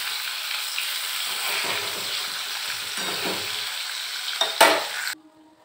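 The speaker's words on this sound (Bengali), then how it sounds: "এই যে মাছটা আমি ভাজা শুরু করে দিয়েছি" Pieces of rohu fish fry in oil in a home kitchen, a continuous close sizzle with soft stirring noises and a brief clatter near the end before it cuts to near silence.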